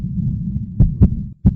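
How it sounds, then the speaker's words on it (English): A child's recorded heartbeat, thumping in three distinct low beats over a steady low hum, the last beat coming after a brief drop to near silence. "What you hear isn't just any beat, it's the actual heartbeat of a child in need."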